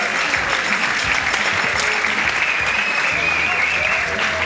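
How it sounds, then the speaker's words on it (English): An arena crowd at a boxing match applauds and cheers in a loud, sustained roar, with a commentator talking over the noise. "Crowd appreciated that."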